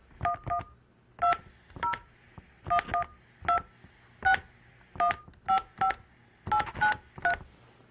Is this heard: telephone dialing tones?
yes